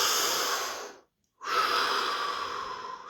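A single slow, deep breath during a guided relaxation body scan, a long airy inhale, a brief silent pause, then a long steady exhale, close and soft with no talking.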